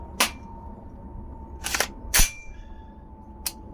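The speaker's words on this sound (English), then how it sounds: "I'm shooting this cheap Russian ammo first" Rifle shots from an IWI Zion 25 chambered in .308 firing cheap Russian ammunition: four sharp, loud cracks at uneven intervals, each brief and separated by quiet outdoor background.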